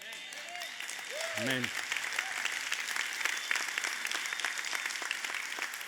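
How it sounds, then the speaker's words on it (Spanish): A church congregation applauds loudly in a dense, continuous wash of clapping, while a voice briefly speaks a single word near the start. "aplaudir fuertemente al Señor"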